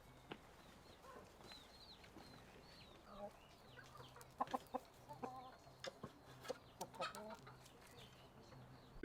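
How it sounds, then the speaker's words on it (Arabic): Sussex chickens, a rooster and a hen, clucking in an animal collection in Qobayat, Akkar, with scattered short clucks, fairly quiet and mid-distance, while people talk nearby. "هذا ديك هذه دجاجة"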